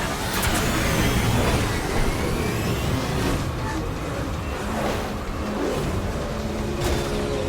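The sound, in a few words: truck traffic in the video game Mass Effect 2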